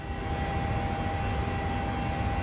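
Steady engine buzz from a PMDG Boeing 737-800 airliner in Microsoft Flight Simulator, heard in the cabin during a flight from New York to Quebec: a continuous droning hum with a faint high whine, unchanging and fairly loud throughout.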